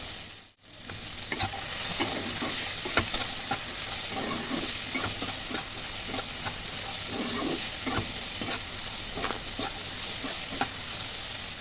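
Winter vegetables frying in a pan with salt and turmeric, a loud continuous sizzle with steamy hiss and recurring scrapes of stirring, preceded by a brief dip at the start.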